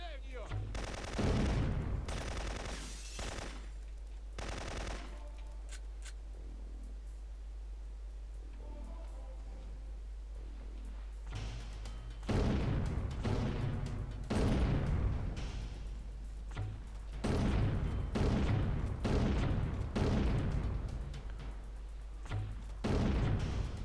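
Syphon Filter 2 on the PS1 gives bursts of gunfire, single sharp shots and rattling volleys, spread over a low steady hum, with quieter gaps in between.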